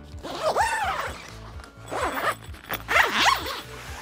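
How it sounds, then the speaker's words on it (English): A zipper on the screen of a hard floor camper door being unzipped in three long drawn-out pulls with short pauses between them, close and fairly loud, with no talking. "Look for the zipper, which of course is the last place you look. Unzip it."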